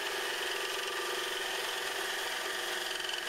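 A friction test machine spins its shaft at maximum RPM, producing a loud, continuous mechanical whir with a steady vibrating drone and no talk.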